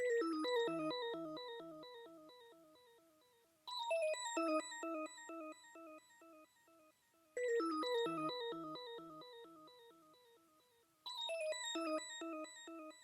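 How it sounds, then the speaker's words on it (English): A synth guitar lead from the Serum Hexagram bank plays a plucked octave pattern, bright picked notes that repeat in four phrases, each starting loud and decaying, with no effects and no talking. "This little thing is just like a lead from the hexagram serum bank"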